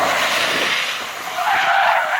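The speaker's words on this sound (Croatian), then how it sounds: "Fora vježba koja omogućuje prikaz kako ABS koči na mokrom zavoju." A Mercedes G-Class braking hard with ABS on a wet curve, a loud continuous tire skid and hiss of rolling rubber on wet pavement lasting the whole moment, close up.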